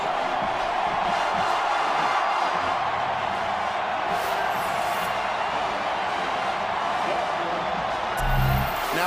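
A stadium crowd at an LSU home football game against Alabama keeps up a steady, dense roar of cheering, with a low thump near the end.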